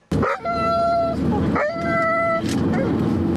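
A frightened dog howls and whimpers in two long, wavering cries close by, loud and drawn out, with a muffled rumble of background noise beneath.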